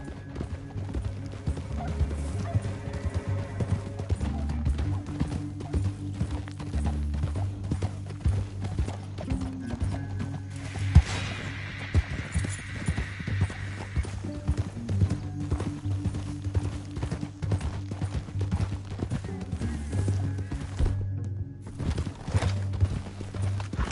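Steady clip-clop of horse hooves at a trot in Red Dead Redemption II, moderately loud and continuous for the whole stretch, with a brief whinny partway through and game ambience underneath.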